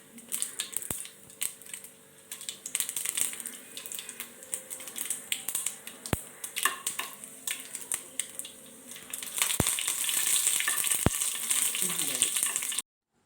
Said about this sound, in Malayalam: അതിലേക്ക് കുറച്ച് വെളിച്ചെണ്ണ ഒഴിച്ച് കടുക്, വറ്റൽമുളക്, കറിവേപ്പില ഇവ ചേർത്തിളക്കി യോജിപ്പിക്കാം